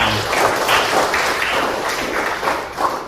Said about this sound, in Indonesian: Tepuk tangan untuk keduanya.